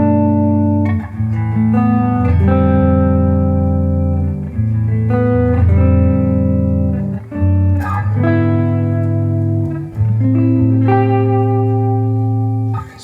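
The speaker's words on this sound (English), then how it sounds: "Let's let you hear some tones of this old guitar." A Godin Montreal Signature electric guitar plays clean through its magnetic pickup, with a series of sustained, ringing notes and chords, one after another in a relaxed bachata-style phrase, loud and alone.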